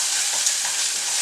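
Rice stir-frying in a wok for veg fried rice, a steady close hiss of sizzling with soft scraping and stirring, no voices over it.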